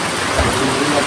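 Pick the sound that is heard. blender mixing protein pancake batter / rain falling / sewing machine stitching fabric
rain falling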